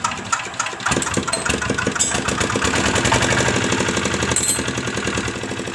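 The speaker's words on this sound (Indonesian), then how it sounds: "Sekarang saya akan coba pakai teknik mengengkol dengan lepas klos" A diesel engine hand-cranked with its decompression lever released, catching after a brief quiet start and settling into a loud, steady, rapid knocking idle that runs throughout.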